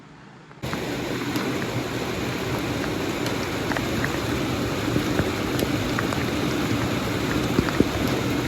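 Steady, dense rain pours down in a constant hiss with scattered sharper drip taps, starting abruptly after a brief quiet moment.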